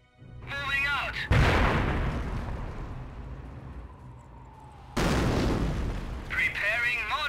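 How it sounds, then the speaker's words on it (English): Mortar barrage in the Company of Heroes video game during an Operation Market Garden mission at Oosterbeek, a loud blast followed by a rumbling roll, with another heavy impact later, mixed under spoken unit voice lines. "Preparing mortar barrage."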